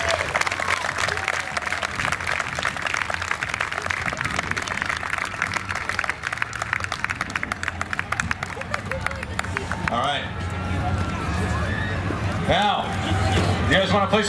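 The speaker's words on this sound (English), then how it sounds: "And I'd just like to give them a round of applause for the hard work that they do year round." Audience applauding the New York State Police underwater recovery divers at an outdoor exhibit demonstration, steady sustained clapping for about ten seconds that thins out, with crowd chatter and voices rising underneath toward the end.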